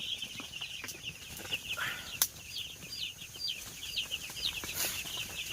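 Three-day-old chicks peep in rapid, high-pitched bursts, with a steady crackling and rustling of a dry-wood heater underneath and occasional sharper knocks.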